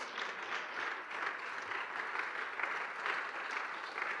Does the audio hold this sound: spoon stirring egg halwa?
no